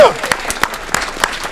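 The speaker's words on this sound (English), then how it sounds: "Big round of applause for Weston Bridges." At a city council meeting, a room applauds the Weston Bridges Special Olympics teams. The clapping is close and uneven, with individual sharp claps standing out and voices calling out over it.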